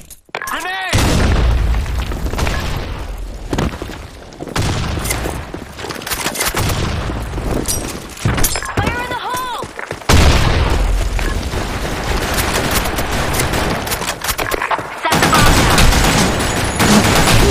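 Video game firefight with heavy grenade blasts and rapid bursts of gunfire, loud and close, overlapping with clipped voice callouts throughout.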